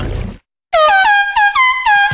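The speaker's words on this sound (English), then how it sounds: "Brewster, Honking Horn!" Loud musical air horn blasts from a Chuggington cartoon advert, a brief burst of sound and a moment of silence, then a string of bright, pitched horn toots running in quick succession.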